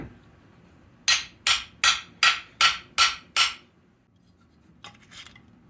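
Seven sharp metallic taps of a small hammer on the side of a hot tub circulation pump part land in a quick even rhythm, followed by a pause and two fainter clinks.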